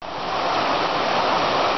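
Kimsey Creek flows beside a forest trail in North Carolina, a steady broadband rush of water close by, constant and unbroken with no voices.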